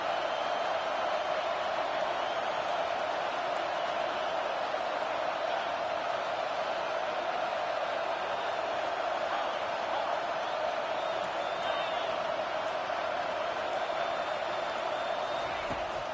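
A home crowd roars at an American football game on a third down, producing a dense, steady wash of stadium noise that holds throughout at a fairly loud level.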